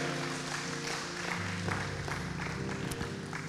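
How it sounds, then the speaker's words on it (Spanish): Church congregation applauding together, a dense, steady wash of clapping that holds at a loud level throughout, with a faint musical tone and a little voice beneath it. "Denle un aplauso a Cristo en este día"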